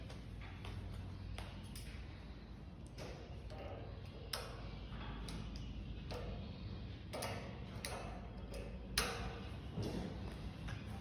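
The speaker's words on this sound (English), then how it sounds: "Pull out the wrench." A ratchet wrench clicks in quick bursts of sharp ticks, close and faint, while a BendPak HD-9XW four-post lift is being assembled, with short pauses between runs.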